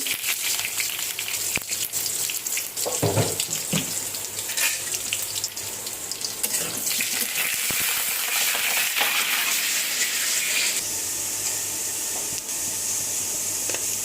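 Garlic hits hot oil in a pan for a dal tempering, bursting into a loud, dense sizzle that crackles steadily for over ten seconds with scattered pops and a stir, no voices.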